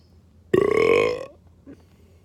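A single long, loud, deep burp rumbles out close up for nearly a second, followed by a short faint gulp, with quiet room tone around it.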